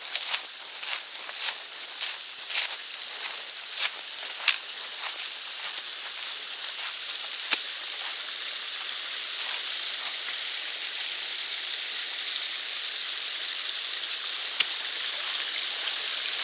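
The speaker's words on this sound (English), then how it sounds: "here's another little waterfall" Steady rushing of a small waterfall on the Appalachian Trail, like a small cascade, with a constant hiss and occasional sharper splashes, no voices.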